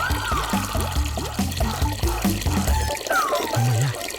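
Water runs from a tap into a vessel in a home, a continuous splashing pour under background music and tones, with a brief sound of voices behind it.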